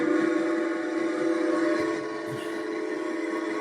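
A train passes with a sustained, tonal horn-like whistle over rolling rail noise, loud and steady for several seconds before easing slightly, heard alone.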